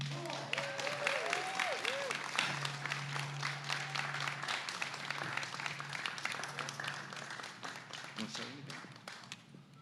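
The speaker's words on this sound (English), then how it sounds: "Let's hear a cheer for Ricard Jensen." Applause and cheering from a crowd at an outdoor Veterans Day parade and ceremony, steady clapping that carries on for about ten seconds, with a low sustained tone and scattered voices underneath.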